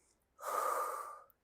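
Heavy breathing during a dumbbell arm exercise, one clear, fairly close exhaled breath lasting under a second, alone and without talk.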